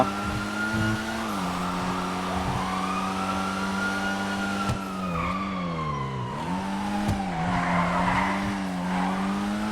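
Engines whine and roar continuously with screeching tire squeals and a few sharp thuds of collisions as cars ram each other on roads in FiveM.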